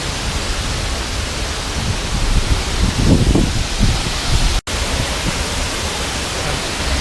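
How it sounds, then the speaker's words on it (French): A steady wide rushing roar of falling water in Chiang Rai, Thailand, heard from the foot of the waterfall, loud and close, filling the air without pause, with a brief dropout midway. "là on est au pied de la chute d'eau"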